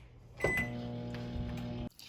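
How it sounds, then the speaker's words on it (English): A microwave oven hums steadily with a clear electrical drone, starting with a click and stopping abruptly near the end, heard alone and fairly quiet in a home kitchen. "put this in the microwave for 30 seconds"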